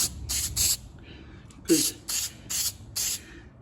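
A spray can applies rust converter coating on a cheap AU Ford Falcon, releasing several short bursty hisses in an uneven rhythm, close and loud, with brief gaps between.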